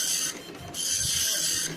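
Ribbon-type printer running, a steady mechanical whir with rapid ratcheting print-head chatter, brief dips then resuming, close and continuous with no talk.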